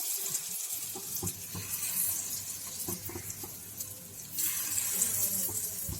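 Ridge gourd koftas frying in oil in a nonstick pan, a steady close crackling sizzle throughout with occasional sharper pops, no talking.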